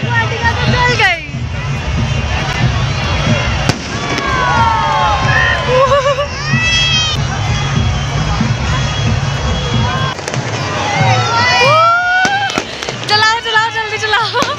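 Fireworks go off at a Dussehra festival celebration in Solan, Himachal Pradesh, with whistling rockets and crackling bursts rising over a dense, noisy crowd and people talking and shouting nearby.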